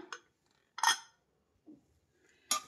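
Metal clinks and clatters from a pressure cooker being opened after cooling, with chicken biryani cooked inside: a few short, separate knocks and rattles of the lid and vessel, fairly close, with quiet gaps between them and no talk.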